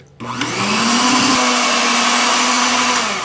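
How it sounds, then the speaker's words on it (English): An electric beater whips egg yolks and sugar for a tiramisu cake, starting abruptly and holding a loud, steady motor whine with a constant pitch for several seconds. "I'm just going to sprinkle it in and start beating. I have a beater here"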